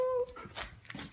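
A small pet dog on a farm whimpers in a short, high, thin whine, then gives a few soft yips and breathy noises close by.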